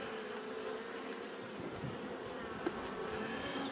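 Honey bees buzz around an open hive frame holding pollen but no brood, a steady close hum with no voices over it.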